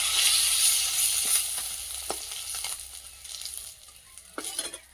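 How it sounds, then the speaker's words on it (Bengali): Bhetki fish frying in a pan: a bright sizzle that slowly fades over a few seconds, with brief scraping and clinks from a spatula near the end and no talking. "মাছগুলো ভাজা হয়ে গেছে,"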